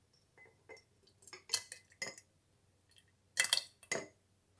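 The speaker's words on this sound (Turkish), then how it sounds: "Reçelimiz kışa daha taze dayanıklı kalsın diye hemen sıcakken kavanozluyoruz." Hot strawberry jam being spooned into glass jars, heard as a series of quiet clinks and knocks of a utensil against glass, spaced irregularly in a calm indoor setting.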